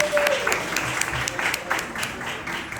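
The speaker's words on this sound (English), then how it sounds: "Let's clap for him." An audience applauds a celebrated Nollywood actor at an event, a dense, sustained wash of clapping from a crowd that swells in bursts and carries on throughout, with a voice faintly underneath.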